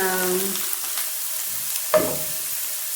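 Okra frying in a pan, with a soft sizzle under a short stretch of talk and then one brief scrape of a stir, close and moderate in level.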